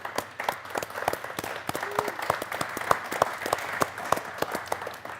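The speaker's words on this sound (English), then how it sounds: "how about a round of applause for all those folks?" Audience applauds at an evening beer talk featuring Devil's Backbone brewery, a steady wash of many hands clapping close by with a few sharper individual claps standing out over several seconds.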